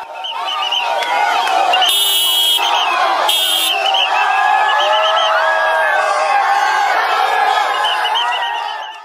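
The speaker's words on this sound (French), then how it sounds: "une foule a envahi la gare du Nord." A large crowd packed into a railway station roars loudly without pause, with blaring horns or whistles and shrill voices layered over a dense, continuous din.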